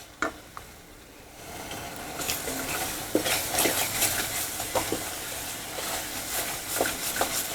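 Matar usal, a spiced pea curry, being sautéed in a pan with very little oil, with steady spoon stirring, scraping and soft sizzling, plus a few sharper utensil clinks against the pan.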